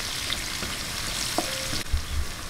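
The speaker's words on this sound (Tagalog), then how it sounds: "lagay na po natin yung sibuyas. Konting gisa-gisa lang." Garlic and onion sizzle steadily in hot oil as they are sautéed for pansit pusit, a constant frying hiss broken by light stirring clinks.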